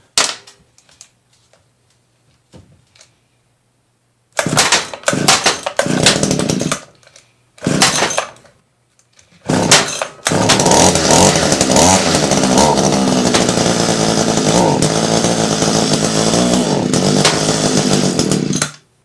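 An Echo HC2400 hedge trimmer's small two-stroke engine is pull-started after a carburetor swap, with several short sputtering bursts before it catches and runs loud and steady, revving unevenly.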